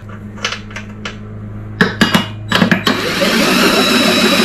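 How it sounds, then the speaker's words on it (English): A drill spinning the flywheel of a John Deere mower engine that won't start: several short mechanical bursts, then a steady whirring crank that holds to the end, close and fairly loud, with no talk. "Let me get a drill and put it on the flywheel."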